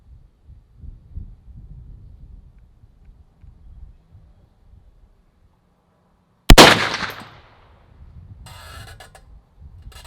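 .450 Bushmaster rifle fires a single loud, sharp shot with a brief ringing decay, breaking a quiet stretch of faint background rustle.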